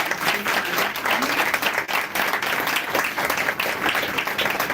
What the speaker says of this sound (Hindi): एक ताली तो बनती है।